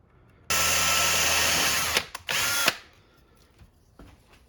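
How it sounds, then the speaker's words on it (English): A power drill bores holes for license plate screws in a WPL D12 RC car body on an SG-1604 chassis: one long loud whir, a brief stop, then a second shorter burst, followed by quiet. "let's get our holes drilled"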